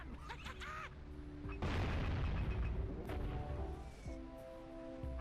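Barrels blow apart in the Jak and Daxter platform game with a loud, sustained booming blast that erupts partway through and rumbles on with scattered pops over game music.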